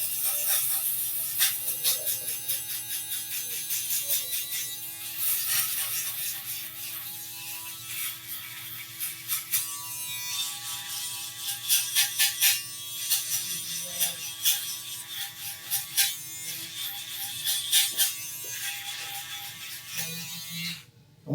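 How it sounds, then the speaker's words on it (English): An electric shaver buzzes steadily for a fade haircut, its dense, close hum running throughout with a faint ratcheting texture and small swells as the blades move through hair. "I actually use 2 electric shavers most of the time"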